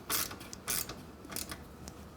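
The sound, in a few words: 13mm wrench tightening a motorcycle exhaust nut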